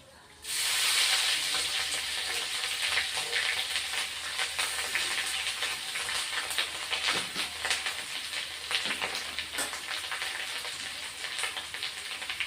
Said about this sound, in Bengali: পেঁয়াজ বাটা দিয়ে দিচ্ছি বন্ধুরা